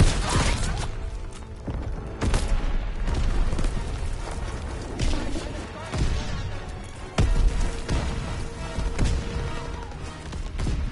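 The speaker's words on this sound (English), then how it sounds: "Enemy bomb incoming!" Heavy explosions boom and crash repeatedly in a Call of Duty WWII battle as enemy bombs and artillery land, loud low blasts recurring across the stretch amid continuous rumbling combat noise.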